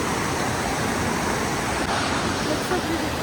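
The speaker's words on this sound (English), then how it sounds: "Oh, the waterfall is there." A waterfall on the trek from Lower to Upper Dowan in the Annapurna region pours with a steady, dense broadband rush, loud and close, unbroken throughout.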